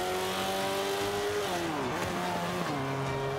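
An all-wheel-drive car's engine revs in Forza Motorsport 5, a loud, steady tone that dips in pitch as if shifting gears, then holds.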